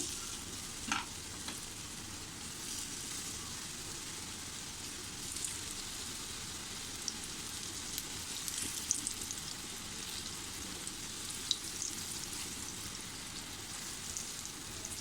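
Raw banana slices fry in hot oil over medium heat, giving a steady, close crackling sizzle that runs throughout with small pops and no talking.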